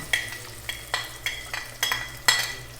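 Onion is stirred into chicken adobo frying in a pan, heard as about half a dozen evenly spaced spatula scrapes against the pan over a soft sizzle. The strokes are close and clear, with no talking.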